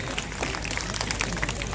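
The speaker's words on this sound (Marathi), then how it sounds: "एकदा हात वरती जोरदार टाळी या नगरसेवकांसाठी." Steady crowd applause for newly elected councillors at a Shiv Sena political rally, with dense overlapping clapping and scattered sharper claps over a continuous crowd murmur.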